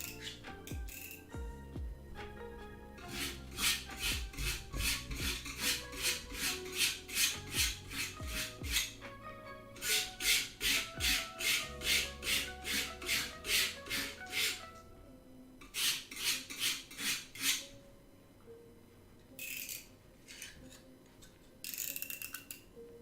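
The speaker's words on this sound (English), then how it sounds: "I'm gonna sharpen it now." A cosplay prop for a Wing Gundam Zero armor build is sharpened with a file or rasp, giving bursts of rapid, rhythmic rasping strokes with short pauses between runs, close and moderately loud.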